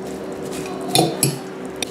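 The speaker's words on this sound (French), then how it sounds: "Alors j'écrase mon mélange." A parsley, coriander and Turkish white cheese filling is mashed in a bowl, a soft squishing scrape with two sharper clinks of utensil on dish near the middle and a light tap at the end.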